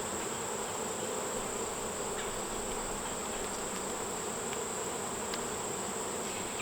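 Bees and yellow jackets buzz steadily around an open beehive during an inspection, a dense, continuous droning hum close by with no voices.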